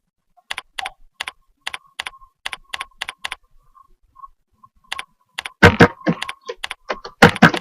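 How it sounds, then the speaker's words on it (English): Username and password typed on a computer keyboard during a login, heard as bursts of crisp, close key clicks with short pauses, then a denser, louder flurry of keystrokes toward the end, no talking. "you're just going to type in your username and your password"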